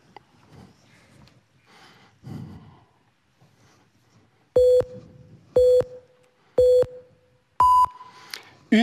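A mobile phone sounds on a stage during a live show, giving four loud, evenly spaced beeps, the last pitched higher, after a stretch of quiet talk.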